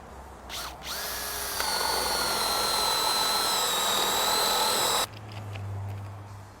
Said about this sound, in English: we're going to try and jam the drill to demonstrate the kickback control